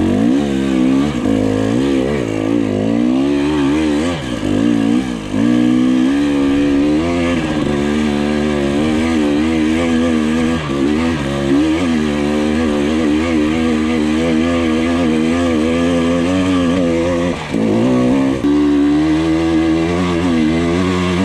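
An enduro motorcycle labors uphill across a meadow in Bosnia, engine revving hard and continuously with rising and falling pitch, loud and close throughout.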